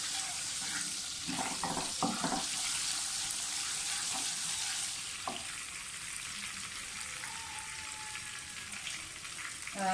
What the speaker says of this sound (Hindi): ऑयल गर्म हो जाए तो सबसे पहले मसाले डाल दें साबुत।